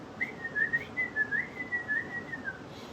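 A person whistles a wavering, birdlike tweeting tune, a series of quick chirpy notes imitating a bird, fairly soft over faint background noise.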